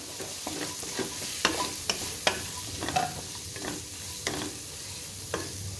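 Vegetables and spices for shahi pulao sautéing in a pan, a low steady sizzle broken by irregular scraping and tapping strokes of a spoon against the pan, close and fairly quiet.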